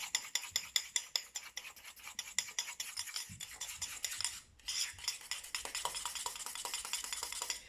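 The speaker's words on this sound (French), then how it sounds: "en petite quantité pour pas trop avoir de gaspillage dans un bol avec une fourchette" A fork beating a small batch of icing in a bowl, a fast run of close, scraping clicks against the bowl with a brief pause midway, heard alone without any talk.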